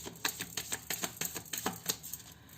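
Tarot cards being shuffled, a rapid crisp patter of card edges riffling in quick, evenly spaced bursts, close and fairly quiet with no talking.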